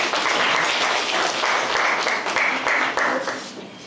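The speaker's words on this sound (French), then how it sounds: "Applaudis encore." A room full of people applauds steadily in a French business training session, dense clapping held throughout before easing slightly at the end.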